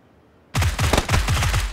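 Suppressed UMP submachine gun firing in PUBG, a quick burst of roughly eight close, rapid muffled shots in a steady rhythm, starting abruptly after a brief quiet moment.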